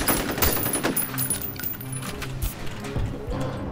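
A heavy assault gun fires in the video game F.E.A.R., a fast stuttering burst of close, punchy automatic shots with metallic mechanical clatter over a low rumble.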